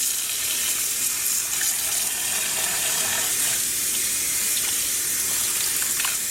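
Tap water gushing steadily over dyed wool and cotton yarn being rinsed in a sink. There is a constant close splashing hiss with small spatter accents.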